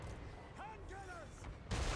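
Hand gunner volley in Total War Warhammer 3: a sudden loud burst of crackling gunfire at the very end, after a voice talking over quiet battle ambience.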